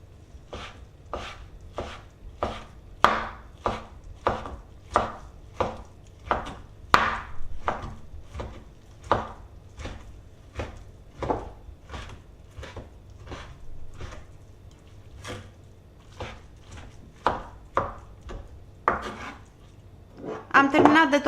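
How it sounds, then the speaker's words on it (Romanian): Knife chopping blanched nettles on a board: steady, rhythmic taps about two per second, close and clear, continuing for roughly twenty seconds and ending in a busier flurry of cuts. "După ce s-au răcit, le tocăm cu ajutorul unui cuțit."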